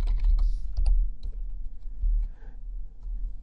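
Fingers typing a short command on a computer keyboard, a quick run of close, crisp key clicks followed by a few scattered taps, with no talking.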